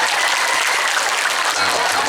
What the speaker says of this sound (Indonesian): Tepuk tangan untuk Ngeliron.